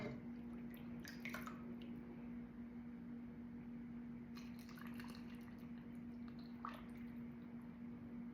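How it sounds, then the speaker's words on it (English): Brine poured slowly into a jar of homemade pickles gives soft intermittent trickles and drips over a steady low appliance hum, fairly faint and close. "I'm just going to slowly pour it in."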